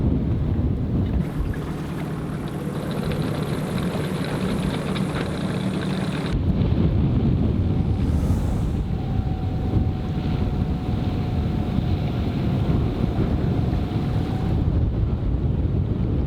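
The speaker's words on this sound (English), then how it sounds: "Wind is definitely picking up." Strong wind gusts around a sailboat riding at anchor in building heavy weather, a steady loud rushing roar with buffeting on the microphone and faint water wash, continuing alone without voices.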